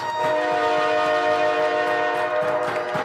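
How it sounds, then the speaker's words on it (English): A loud, sustained train horn blares as the championship horn at a youth bantam hockey tournament game in an arena, its steady multi-tone chord holding for about three seconds with faint crowd noise beneath. "That train horn needs no introduction as Ron brings the championship horn."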